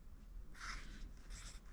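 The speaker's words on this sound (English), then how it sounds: "I would write" A pencil scratches across paper in a few quick strokes, writing fractions while marking out a tape measure, close and soft against a quiet room.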